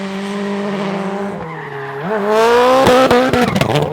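Travis Pastrana's 862bhp Subaru Huckster rally car, driven hard, with a loud close engine note that climbs in pitch, then sharp tire squeal and skidding bursts as the revs rise.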